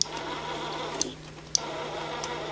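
A new ArcCaptain MIG 145 Pro welder feeds wire in a steady, low mechanical whir with a constant hum, broken by a few faint clicks.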